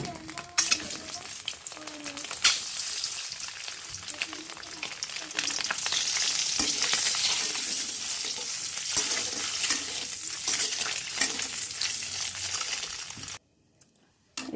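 Steady loud sizzling from a pan of potato and egg curry cooking, with continual stirring scrapes across the surface; the sound runs unbroken, then cuts off abruptly near the end.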